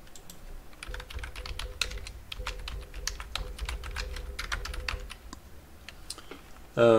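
Close typing on a computer keyboard while setting up a user password in a self-hosted IP security camera system, with brisk irregular key clicks in bursts and a sudden louder noise at the very end.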